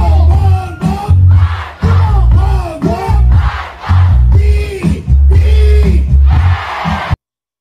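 Crowd at an Andrew E. campaign rally in 2022 bellowing in unison, loud rhythmic chant-like shouts rising and falling in repeated bursts before cutting off abruptly.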